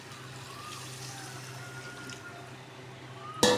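Water poured into a wok of mutton curry with potatoes: a faint, steady trickling wash at low volume, ending in a brief louder splash or clatter.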